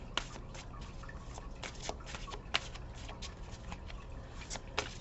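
A deck of tarot or oracle cards being shuffled at a reading table, giving soft, quick riffling and tapping clicks in irregular bursts, faint and close with no voice over it.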